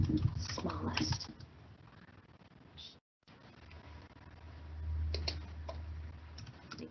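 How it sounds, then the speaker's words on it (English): Live typing on a computer keyboard during an online event, soft rapid key clicks in bursts with a short dropout midway, under a presenter's speech. "live typing"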